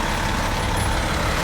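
A truck idles at an asphalt ramp work site, its engine a loud, steady low rumble held close throughout with no talking.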